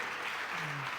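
Audience applause at a live comics talk show, a brief, dense burst of clapping with a faint voice underneath.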